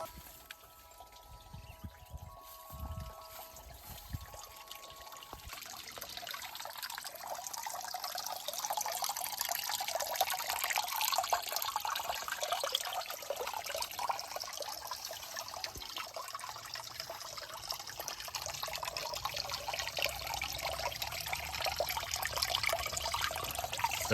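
A small garden waterfall fed by a solar-powered pump pours water over rock and moss and through charcoal. Close, steady splashing and trickling begins softly with a few drips, then swells into a continuous rush that carries on without talk.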